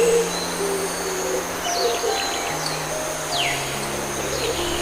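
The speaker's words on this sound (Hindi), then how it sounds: "चिड़िया" Small cartoon birds chirp and tweet in short, scattered calls with a few quick downward whistles over a steady musical hum, fairly close and clear, with no talk.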